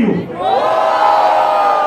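A crowd at a Brazilian rap battle roars and cheers, a dense sustained wall of shouting voices swelling up close and staying loud throughout.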